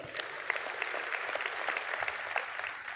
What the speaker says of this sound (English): Can we get another round of applause for how great that was?